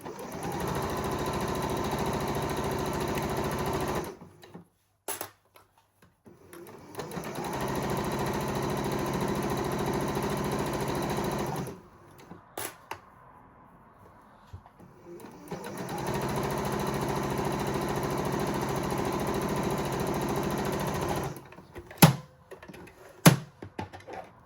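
A sewing machine joins blouse pieces with a 1 cm seam, running in three long steady bursts of close, even whirring separated by pauses with small handling clicks.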